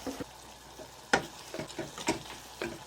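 Cabbage sizzles in a frying pan while a spoon stirs it, with soft scraping strokes and small clicks against the pan over a low steady frying hiss.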